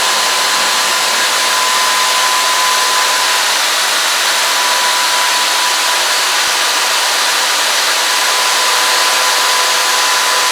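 A power drill runs continuously and loudly at close range, a steady high whine grinding through metal bolts without pause.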